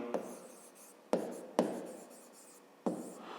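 Pen on paper during a fifth-grade math exercise: quiet strokes with a few sharper taps as each line starts, close and soft, with no talk.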